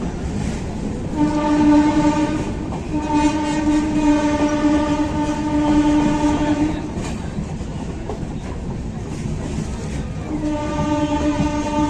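A passenger train pulls into Madhupur Junction, its loud rumbling carriages and steady rolling clatter joined by a long sustained horn that drops out and resumes, with no talking.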